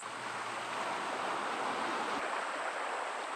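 Strong, powerful stream current at a Queensland swimming spot, a steady broadband rush of flowing water that stays loud and even throughout, with no voices.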